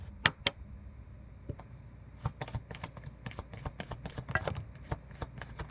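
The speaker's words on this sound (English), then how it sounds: "We're shuffling out 3 cards to begin with" Cards are shuffled in soft, quick riffles and taps, with scattered crisp clicks and a few brief bursts, fairly close and quiet.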